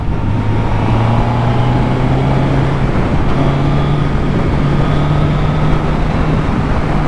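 A 2022 Suzuki GSX-S1000GT motorcycle pulling away, its engine droning steadily and loud close by, with the pitch rising and shifting as it gains speed, mixed with constant road and wind noise.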